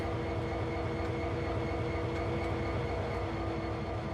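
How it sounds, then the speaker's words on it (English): An AC4400CW diesel locomotive in Train Sim World 2 idles and rumbles steadily while being pushed onto a turntable, a constant loud engine drone with a low throb and no breaks. "So now I have to push the locomotive onto the turntable."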